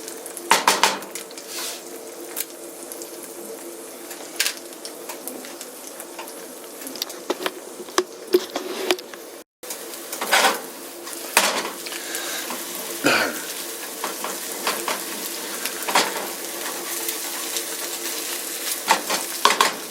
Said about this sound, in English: Just doing the scrambled eggs, so.